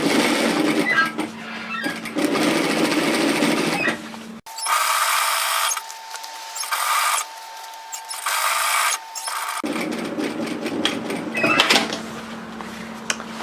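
A sewing machine stitches the hem of a tailored vest in several close, steady runs separated by brief pauses, with a whining motor tone in the middle burst.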